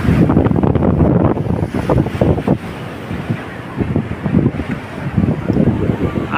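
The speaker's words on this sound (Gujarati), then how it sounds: "દરિયો ભરાઈ ગયો તો આવી રીતે મોજા વળે છે" Sea waves surging and breaking at a seaside temple with strong wind buffeting the microphone: loud continuous rushing and churning water with rhythmic swells, no speech.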